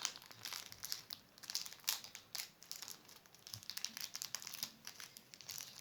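Brawl Stars card pack wrapper being torn open, a close, bursty crinkling and crumpling of foil-like packaging with sharp rustling peaks throughout and no talking.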